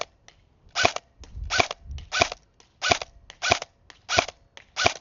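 An airsoft rifle fires a series of about seven sharp, evenly spaced shots during a headshot accuracy test at 75 feet, each crack close and clear, with faint clicks between them.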